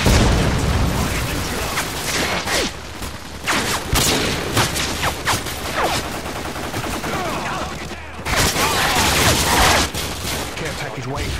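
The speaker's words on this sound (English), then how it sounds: "Friendly predator is all inbound." Call of Duty Modern Warfare 2 online sniper match on PS3: dense, loud bursts of gunfire and explosive blasts, with a brief lull midway before the barrage resumes, under game voice callouts.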